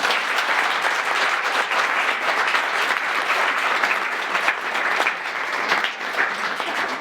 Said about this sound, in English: Can we please give our panelists a round of applause?